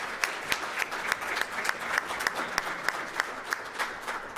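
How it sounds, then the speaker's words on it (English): An awards ceremony audience claps steadily for several seconds, a dense, even wash of applause filling the room with no voices over it. "one more round of applause for our final 5 finalists for 2018"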